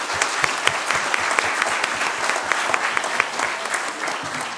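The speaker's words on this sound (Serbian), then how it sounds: "molim aplauz za naše goste" An audience at an e-commerce panel event in Serbia applauds the panel guests, a dense, steady burst of many hands clapping close and loud throughout.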